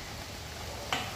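Tomatoes with home-ground red chilli powder and turmeric stir-frying in a pan for matki usal, a soft continuous sizzle with light stirring and a brief sharper scrape near the end.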